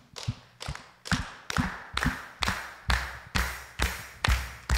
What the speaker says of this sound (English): All right, you're gonna start clapping too